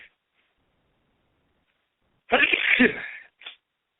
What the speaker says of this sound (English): my allergies are in full effect, so I'm trying to keep the sneezing to a minimum